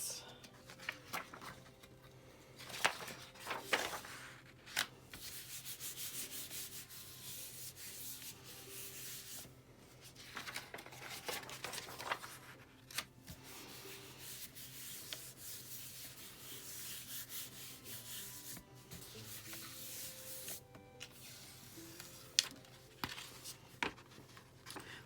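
Paper is rubbed over a gelli plate to pull prints made with alcohol inks and metallic paint, giving soft, repeated scratchy strokes in short bursts, quiet and close.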